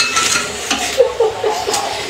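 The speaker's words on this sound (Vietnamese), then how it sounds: "Đặt cá vào nồi để nấu." Fish goes into a cooking pot with a few light knocks and clinks of metal and utensils, followed by a faint sizzle, close by and brief, with no talking.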